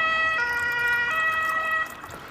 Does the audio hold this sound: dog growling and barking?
no